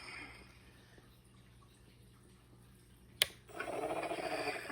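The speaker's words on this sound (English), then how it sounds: "You can hear the motor activating." The motor of a Haslab Ghostbusters trap toy clicks on, then settles into a steady, fairly loud mechanical whir after a quiet stretch, with no talking.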